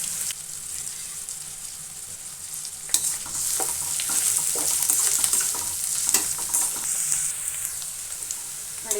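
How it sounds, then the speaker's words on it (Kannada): Curry leaves, onion and green chilli fry in a hot oiled pan, a steady bright sizzle with scattered stirring scrapes and clinks throughout, close and fairly loud, with no talking. "ಕರಿಬೇವು, ಈರುಳ್ಳಿ, ಹಸಿಮೆಣಸಿನಕಾಯಿ ಇಷ್ಟು ಹಾಕ್ಕೊಂಡು ಚೆನ್ನಾಗಿ ಫ್ರೈ ಮಾಡ್ಕೊಳ್ಳೋಣ."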